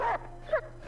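A pair of quick yapping dog barks from the video game Reigns, one at the start and one in the middle, close and clear over a soft sustained background drone.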